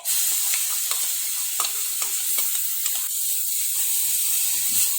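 Ground coconut and tomato are stirred into a sizzling chickpea curry, with a steady bright hiss and repeated ladle scrapes and clicks against the pan at close range, no talking.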